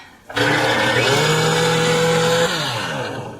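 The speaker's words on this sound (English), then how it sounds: "then what you're going to do is blend everything up like it needs a lot of blending" A blender whirs steadily through clams and other seafood chowder ingredients, starting abruptly after a brief quiet and holding a loud, even motor drone before the pitch drops and begins to wind down near the end.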